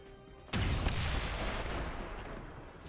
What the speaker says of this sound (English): Barchman can now shoot the claymore, removing his cover.